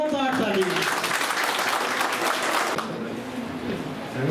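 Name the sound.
applause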